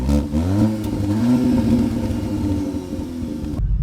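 A Cupra Formentor 310 pulling away and accelerating hard, a loud close engine roar climbing in pitch through the revs before cutting off abruptly at the end, no talking.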